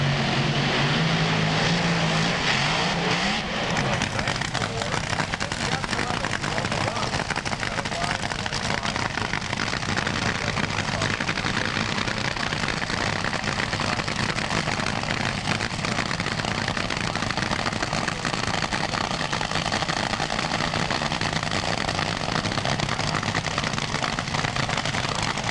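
Doug Herbert's top fuel dragster makes a qualifying run at the 1992 US Nationals, a loud, sustained roar that fills the whole clip, with crowd and announcer noise mixed in.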